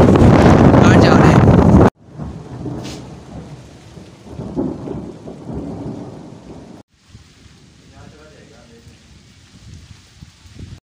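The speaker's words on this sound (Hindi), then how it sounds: "मौसम काफ़ी ज़्यादा ख़राब हो चुका है, बारिश आने का भी खतरा है" Wind and rain rush over a microphone in a village at evening, with a low thunder rumble rolling underneath; a loud buffeting burst opens, then steadier stormy noise.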